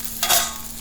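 Tomatoes and garlic roast over an open fire until charred, giving a short, close burst of sizzling hiss that swells and then fades over a faint steady hum, with no voices.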